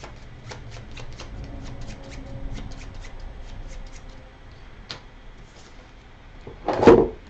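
A deck of cards is shuffled by hand during a tabletop board game, a series of quick close riffling flicks, ending in a louder cascading riffle and rustle of cards settling.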